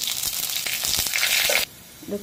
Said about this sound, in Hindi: सबके हम तड़का डालेंगे।